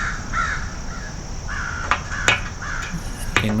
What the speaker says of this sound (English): You can really hear those crows in the background.